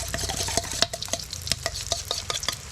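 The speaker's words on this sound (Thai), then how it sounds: "นี่ก็เป็นทอดมันปลานะทุกคน" Steady hot-oil sizzling and crackling from Thai fish cakes frying in a pan, with a few clinks and stirring scrapes on top; close and continuous.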